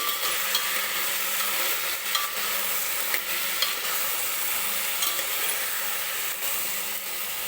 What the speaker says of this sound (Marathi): तर मीठ टाकल्यानंतर ह्या भाज्या ज्या आहेत ते व्यवस्थित परत एकदा तेलामध्ये परतून घेते.